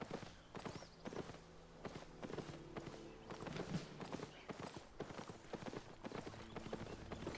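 Horse hooves clip-clop steadily in the Albion Online video game, a rhythmic trotting pattern heard alone at a quiet level, with a faint neigh suggested.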